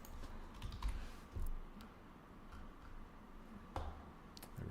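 Computer keyboard typing during an Unreal Engine animation tutorial, a few quiet, scattered key taps with pauses between, with no voices.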